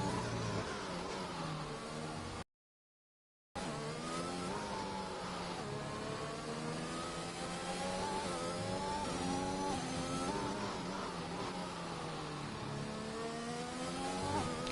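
Race car engines from the F1 2021 video game at Brazil scream continuously, with several layered tones rising and falling through gear changes; a brief dropout cuts the sound early on.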